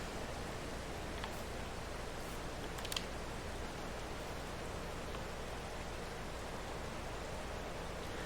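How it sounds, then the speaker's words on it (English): Steady rain in the game Farming Simulator 22, a dense even hiss of falling drops with a couple of faint brief ticks, unchanging throughout and without voices. "here comes the rain"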